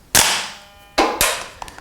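Three sharp cracks from a Rare Arms XR25 gas blowback airsoft rifle, spaced unevenly, each with a short metallic ring, followed by a faint click as the bolt locks open after the last shot.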